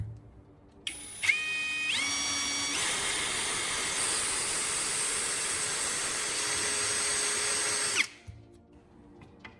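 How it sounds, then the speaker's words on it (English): A power drill bores a hole through the center of a knife-sharpening stone, whining up to a steady, loud high-pitched grind that holds for several seconds, then spins down and stops. "Mark the center of the stone and drill a clean hole through it."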